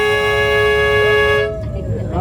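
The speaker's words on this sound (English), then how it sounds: "first thing you're going to hear is a couple of horn honks or maybe a couple of bell rings" Horn on a narrow gauge railbus at a railroad museum sounds a steady, loud harmonic toot for about a second and a half, then cuts off into outdoor noise with faint voices.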